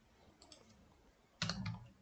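Computer keyboard being typed on at a desk, a few faint isolated key clicks followed by a short, louder burst of quick keystrokes near the end, close and otherwise quiet.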